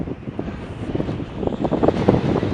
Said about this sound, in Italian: Però c'è il vento